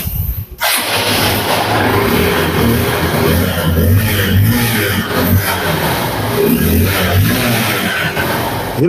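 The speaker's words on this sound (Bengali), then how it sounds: "হাং বাইকের সাউন্ড আপনারা দেখতে পারেন" A second-hand Hero Hunk 150cc motorcycle engine runs loud and close, a steady, throbbing roar that rises with throttle after an abrupt onset.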